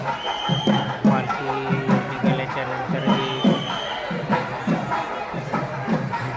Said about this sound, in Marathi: हे पाहू शकता किती गर्दी आहे वरपर्यंत